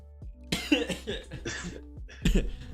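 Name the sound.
cough after choking on water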